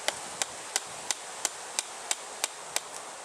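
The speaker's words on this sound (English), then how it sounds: "So what I'm gonna do is hammer this in the ground." Nine evenly spaced hammer blows, sharp and hollow, driving a plastic pole into the ground at a steady rhythm with quiet between hits.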